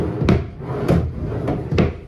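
A drawer in a renovated bedroom bed unit makes four quick wooden knocks and thumps at uneven intervals, close and moderately loud, with no speech.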